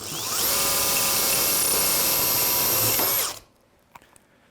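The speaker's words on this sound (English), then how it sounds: "Just do my best to drill straight." A power drill bores through the wall of a metal frame tube, a loud, steady high-pitched whine held for about three seconds before cutting off, followed by a few faint clicks.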